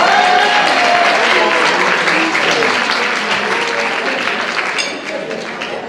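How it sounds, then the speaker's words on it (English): A loud, dense round of audience applause fills the room at a Daughters of Penelope event, sustained clapping with a few voices mixed in, easing slightly toward the end. "I think you should give her a round of applause"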